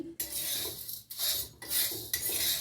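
Jowar (sorghum) grains poured from a bowl, three or four close bursts of dry rattling hiss separated by brief pauses.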